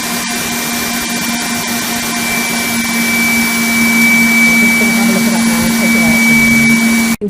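An electric mixer whisks egg whites for a meringue gateau, giving a steady, continuous motor whir that holds at an even loudness for the whole stretch.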